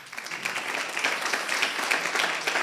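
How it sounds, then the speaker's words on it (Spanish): A church congregation at a Spanish-language service claps steadily together, a dense, continuous patter of many hands at moderate volume throughout. "denle un aplauso al Señor, hermano"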